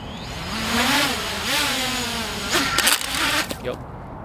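A custom quadcopter drone's motors spinning up on a failed maiden takeoff, a close whirring whine that wavers and surges in pitch before cutting off into a clattering crash, with a voice briefly heard.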